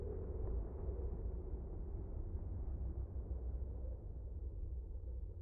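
A ship explodes in the space game EVE Online, a deep, even rumble that rolls on without a break and fades only slightly, with no voice over it.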